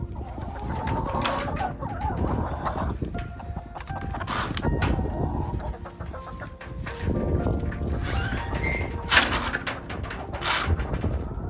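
Chickens clucking and chattering nearby, with scattered bird calls over a low rumble and some rustling; no speech.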